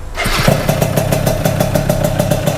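A Yamaha Mio scooter with an automatic gearbox and a KR engine fitted fires up after a brief crank, then settles into a loud, close, steady popping idle with no one talking.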